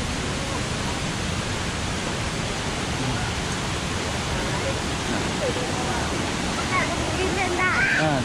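Heavy rushing water upstream at Nang Rong waterfall in the rainy season, a steady loud broadband roar of high flow that holds constant throughout, with faint birdsong near the end.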